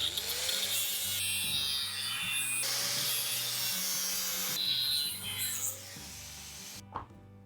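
A hand saw cuts through a rubber control arm bushing on a Citroën Picasso, a steady rasping stroke after stroke that fills most of the clip, then stops briefly, gives one sharp knock and goes quieter.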